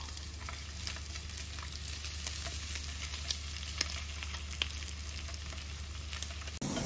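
Food sizzling on a home barbecue grill, a steady close hiss of frying with scattered small pops and crackles, continuous and alone without talk.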